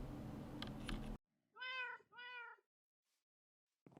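A cat gives two clear, close meows in quick succession, each drawn-out and tonal, after a short burst of background noise, then quiet.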